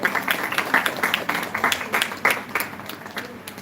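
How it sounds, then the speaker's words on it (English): Audience applause at a felicitation during a live event at the National Institute for Locomotor Disabilities, Kolkata: a steady, dense patter of many hands clapping that holds for the whole stretch with small swells, fairly close and without talk. "Please give them an applause."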